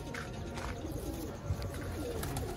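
Sialkoti pigeons coo softly and steadily in short low phrases, fairly quiet against a continuous background hiss.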